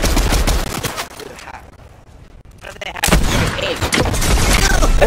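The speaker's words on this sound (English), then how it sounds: "I'm getting shot at, but I need the blue pump." Loud gunfire in the Fortnite video game, with dense rapid bursts of shots, a brief lull in the middle, then more heavy firing.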